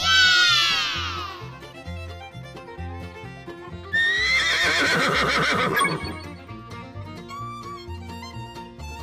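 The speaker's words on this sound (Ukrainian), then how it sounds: "Кінь." A horse whinnies twice, loud high-pitched neighs at the start and again midway, over a steady rhythmic musical backing.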